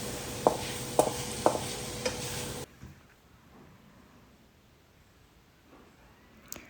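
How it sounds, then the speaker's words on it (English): Onions and pork with sauces stir-fried in a pan: a strong sizzle with several sharp spatula knocks against the pan, then a sudden drop to quiet room tone for the remaining seconds. "Mix the onions and pork and all the sauces"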